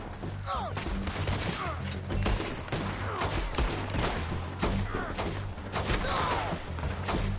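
Dense gunfire from a Red Dead Redemption 2 battle, rapid overlapping shots and thuds filling the stretch continuously at high loudness, with someone shouting over the shooting.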